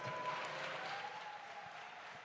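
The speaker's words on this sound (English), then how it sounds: "Clap it up for that." A faint, distant audience claps in a steady wash of applause, soft and continuous throughout the short stretch.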